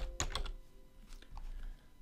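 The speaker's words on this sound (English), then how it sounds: "Let's press on Control U on our keyboard" Key presses on a computer keyboard entering the Control U shortcut: two or three close, crisp clicks near the start, then a few faint taps, with no talking.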